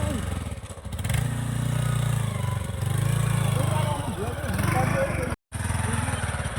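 A motorcycle engine runs close by in a steady, throaty drone that rises and dips slightly as if revving, cutting out for a split second near the end before resuming.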